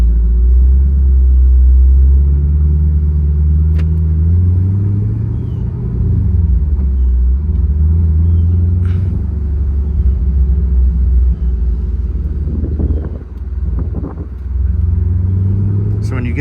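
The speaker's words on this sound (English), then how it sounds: "when you get up into the high RPMs, the exhaust sounds incredible on this car." A 2020 Chevrolet Camaro convertible with a manual gearbox is on the move, its engine and exhaust giving a loud, steady, close rumble. The pitch climbs and falls as it accelerates and shifts, with a few faint clicks over the drone.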